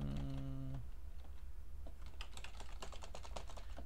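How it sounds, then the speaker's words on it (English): Typing on a computer keyboard, a quick run of soft, close key clicks in the second half, following a brief low tonal hum at the start. "And then after this, I can just type in a bunch of text."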